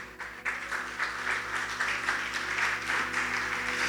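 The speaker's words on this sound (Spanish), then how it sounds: "Denle un fuerte aplauso al Señor" Steady applause from a church congregation during a Lord's Supper service, a dense continuous clatter of clapping that runs the whole time without voices standing out.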